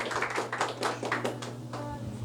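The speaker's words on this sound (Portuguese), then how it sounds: "uma salva de palmas para Jesus bem forte" A church congregation claps for Jesus during a worship service, with a brisk scatter of hand claps ringing over a low sustained tone.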